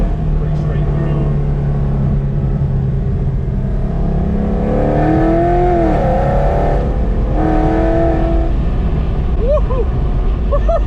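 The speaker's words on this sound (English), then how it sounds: "Got it in sport mode, obviously, so the valves are open, pretty straight through." A supercharged LSA Chevy SS in sport mode with its exhaust valves open drones loudly, swells through two strong revs midway, then gives a few quick throttle blips at the end.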